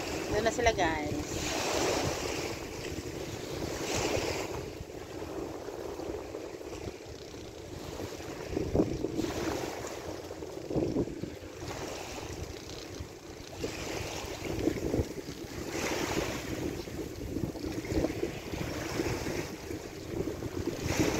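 A boat travelling over choppy sea in the late morning, with continuous wave wash, wind buffeting the microphone and a low engine rumble underneath, steady and fairly loud throughout.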